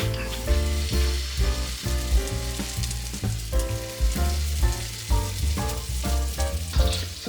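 Corn fritters sizzle and crackle in a frying pan, a steady bubbling hiss heard under rhythmic background music.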